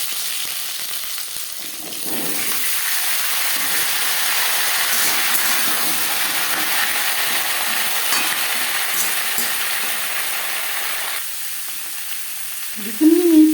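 Papaya pieces fry in hot oil with cumin and chili for a lentil dish, a close, even sizzling hiss that holds steady for several seconds before easing, with a brief clatter at the end and no talk.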